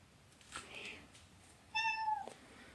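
A cat meows twice, a short soft call followed by a louder, drawn-out meow, with quiet background noise in between.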